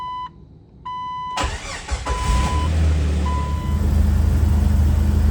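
A Jeep TJ with the 4.0L engine cranks and fires up after an oil change, a chime sounding first, then the starter catching into a loud, steady idle that carries on alone.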